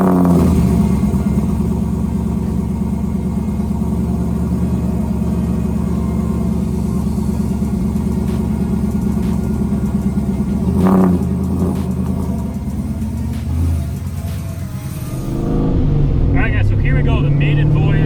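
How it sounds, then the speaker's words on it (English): A car engine with a Strange S60 rear axle swap hums steadily while driving, with a low rumble and brief rev partway through, plus some clatter near the end. "I'm probably gonna go around the block, test drive it, see where it's gonna settle"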